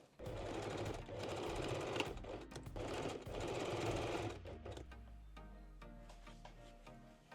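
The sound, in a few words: sewing machine sewing a straight stitch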